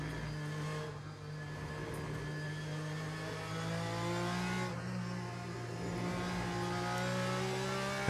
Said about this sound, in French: De voir les voitures sortir à pleine vitesse.